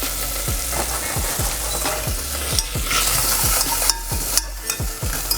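Hake roasting in a hot pan while being basted: a steady, close sizzle with regular spoon strokes roughly every half second, and no talking.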